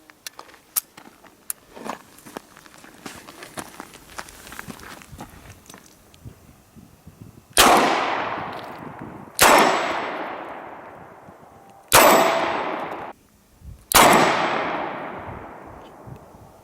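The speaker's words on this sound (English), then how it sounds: "This is the Smith & Wesson M&P340. I have not fired this gun before" Four loud, sharp reports from a Smith & Wesson M&P340 revolver fired outdoors, each ringing off in a long decaying tail, spaced about two seconds apart after quieter clicks and shuffling.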